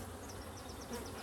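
Honeybees swarming at a hive in spring, a steady faint insect drone with a high buzzing hum that holds evenly throughout, with no voices.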